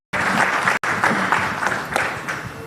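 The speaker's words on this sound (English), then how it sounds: "A round of applause for all my panelists who are on this table." An audience at a public debt conference in Kenya gives the panelists a round of applause, dense, loud clapping that starts abruptly, breaks off for an instant, then carries on steadily.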